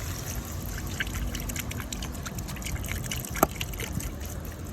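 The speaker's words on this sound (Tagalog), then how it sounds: "lalagyan natin ng tubig" Steady trickling of water pouring into a cooking pot, continuous and close, with a brief splash-like clink partway through.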